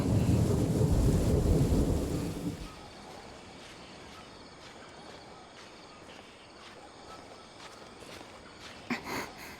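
A thunderstorm in the video game Genshin Impact, with a heavy rumbling roll of thunder that cuts off abruptly, leaving a quieter bed of rain and scattered soft taps afterward.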